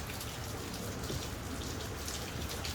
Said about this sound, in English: It's just crazy rain right now.